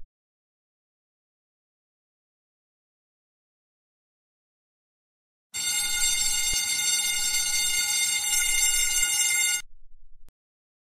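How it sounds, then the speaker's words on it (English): A loud, harsh electronic alarm in an animated children's TV show blares steadily for about four seconds after long silence, then cuts off abruptly with a brief quieter tail. "And I'll go sound the alarm."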